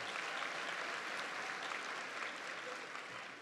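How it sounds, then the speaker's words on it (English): An audience at a high school commencement ceremony applauds performers, with steady, dense clapping throughout that is loud and sustained and fades slightly at the end. "Give them a big round of applause."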